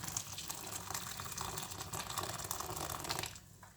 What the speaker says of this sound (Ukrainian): І додаємо десь мілілітрів 200 окропу гарячої води.